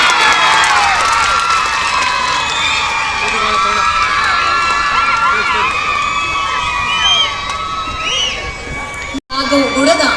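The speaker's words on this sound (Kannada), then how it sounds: "ಜೋರಾದ ಚಪ್ಪಾಳೆ." An audience at a college inauguration event for a tenth-anniversary celebration in Sanikere, Challakere claps loudly and cheers with shouts and whoops, a dense, sustained roar of applause close by that thins out near the end.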